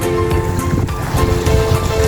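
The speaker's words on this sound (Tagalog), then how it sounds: "Ito po ang alon, maliit lang po ang alon nila." Small sea waves wash steadily onto a beach, a continuous broadband rush with wind buffeting the microphone and no voices.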